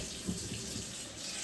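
Cold water runs from a tap in a steady, even rush that continues briefly, soft and close, with no voices.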